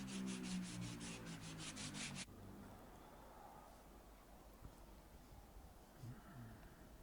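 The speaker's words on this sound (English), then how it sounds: "and then I just finished them off with a hand sanding" Pallet wood being sanded by hand with sandpaper, a soft steady rubbing and scraping close by, with a brief burst of louder, higher-pitched sound at the start.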